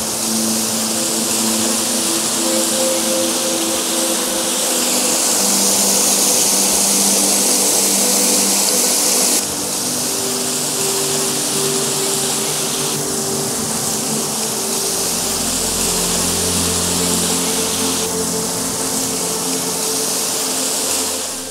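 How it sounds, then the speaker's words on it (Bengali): Monsoon waterfall and rushing stream at Daringbadi, a loud, constant broadband roar of falling water heard close, steady throughout with slight shifts in texture. "জলের স্রোত দেখে এবং ওয়াটারফলসের শব্দ শুনে বন্ধুরা বুঝতেই পারছেন ভরা বর্ষায় কীরকম হবে"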